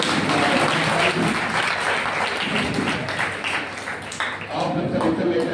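A coaching-class audience gives sustained, dense applause for students selected in the NEET 2024 exam, with voices talking over the clapping throughout.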